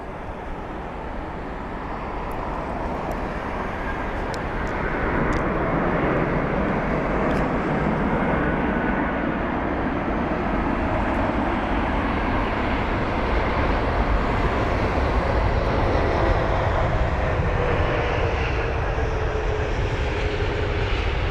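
An Airbus A380 lands on runway 27 right at Heathrow, its engines a loud, sustained roar that builds in the opening seconds and then holds steady and close. No voices are heard.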